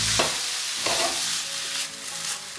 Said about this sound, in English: on a medium heat, we'll cook the meat first, halfway